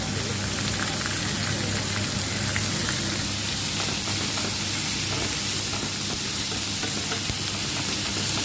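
Beef sizzles loudly and continuously as it is stir-fried in a hot pan for a spicy beef stir-fry with onion, a dense, close crackling hiss with no voices.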